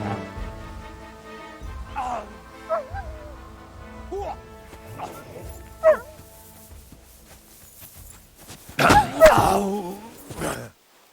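A dog in Kingdom Come Deliverance II gives several short barks and yips spaced across the scene, then a louder burst of barking near the end, close and clear, with grunting voices in between.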